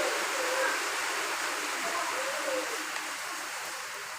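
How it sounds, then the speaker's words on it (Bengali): Fish curry broth with potatoes boils in a pot, a continuous bubbling hiss held steady throughout, close and fairly loud with no talk over it. "দেখেন আমার ঝোলটা খুব সুন্দর ফুটে উঠেছে"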